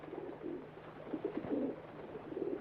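Pigeons cooing softly in short repeated bursts, a few low throaty coos spaced about half a second apart over quiet background hiss.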